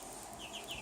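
Faint clucking and soft chirps from six-week-old chicks of several breeds, including Orpington and Australorp, with three brief high calls in the latter half over a quiet background.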